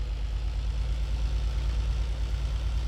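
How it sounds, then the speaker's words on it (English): A Lamborghini tractor engine in Farming Simulator runs at a steady, low idle, a continuous deep rumble with even loudness and no talk. "engine sound on the Lambo. It sounds good. It's kind of got a little deeper, nice little sound to it."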